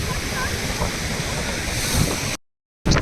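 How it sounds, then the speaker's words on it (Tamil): Sea waves crash on the shore at Dhanushkodi with a steady, loud roaring wash mixed with wind buffeting. The sound cuts out briefly near the end before resuming. "பாருங்க அலைகள் எப்படி வருது பாருங்க"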